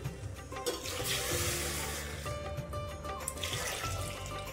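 Water poured into a pressure cooker holding drumsticks for soup, a continuous splashing, gurgling stream lasting several seconds at close range, with no voices.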